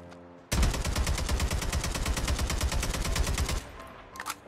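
Automatic weapon emptying a full magazine in Call of Duty, a rapid unbroken burst of loud, evenly spaced shots lasting about three seconds, followed by faint mechanical clicks.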